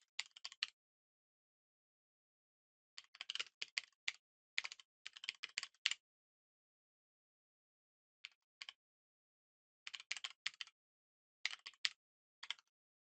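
Code is typed on a computer keyboard in short, quick bursts of clicking keystrokes separated by pauses, close, quiet and alone in an otherwise silent room.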